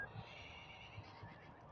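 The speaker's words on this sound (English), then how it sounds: "You can even hear the horses whinnying." Horses whinny in a video game, giving a fairly clear, drawn-out neigh that sits at moderate volume against a soft game background, with no talk.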